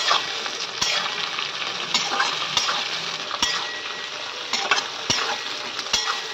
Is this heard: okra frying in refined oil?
yes